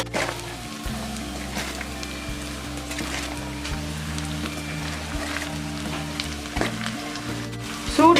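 Cut cabbage pieces tipped into hot oil, a dense crackling sizzle with a low steady hum beneath, close by, broken by a few louder clatters near the end.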